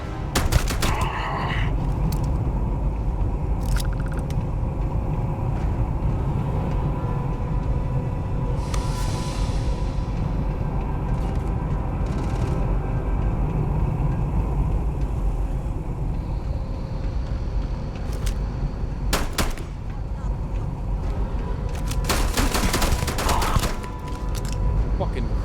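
Dense, continuous video-game gunfire, bursts and volleys of shots layered over a steady rumble of vehicle and battle noise, loud throughout, with talk mixed in.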